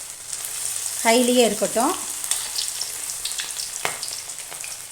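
Chicken 65 deep-fries in hot oil over high heat with a dense, continuous bubbling sizzle; a voice briefly speaks over it early on.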